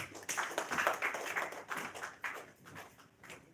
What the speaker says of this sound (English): Let's clap again for her.